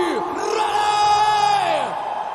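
An MMA event crowd yells and roars loudly in a sustained swell, with drawn-out bellowing voices that rise and fall over about two seconds.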